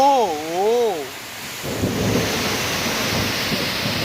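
Heavy rain with thunder during a Kalboishakhi (nor'wester) storm. A voice wails a wavering, sing-song tone at first, then a steady broadband rush of rain and rumbling storm noise carries on to the end.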